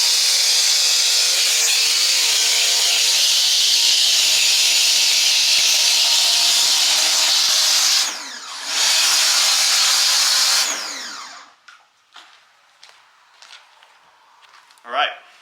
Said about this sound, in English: There's a little soap attachment that's going to put out a nice bit of froth